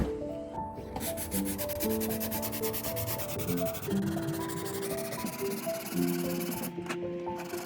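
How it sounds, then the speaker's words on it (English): Steady rasping strokes of hand sanding rub back and forth on wooden furniture, close up, continuous with a faint tonal hum behind. "It helps contour to your hand when you're sanding into tight spots"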